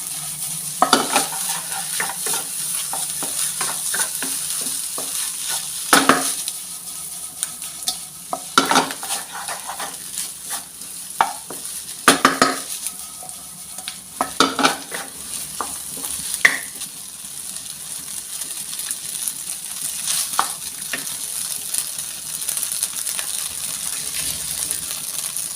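Fish fried rice (nasi goreng ikan) with sweet soy sauce being stir-fried in a wok over high heat: continuous loud sizzling broken by repeated metallic scrapes and clanks of the spatula against the wok.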